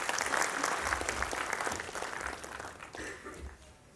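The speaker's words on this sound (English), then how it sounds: "Can we have a round of applause," An audience at a conference theme presentation claps in a steady round of applause for a presenter, fairly close and even at first, then thinning and fading toward the end.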